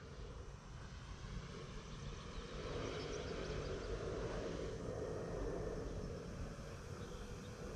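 A Horizon Hobby Night Timber X RC airplane drones steadily as it comes in to land, its buzzing engine a continuous, fairly close whine that swells slightly partway through, with no talk.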